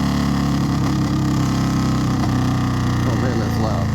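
A tuned Indian Scout Bobber motorcycle engine idles loud and close, holding a steady, deep, throbbing rumble with no break throughout.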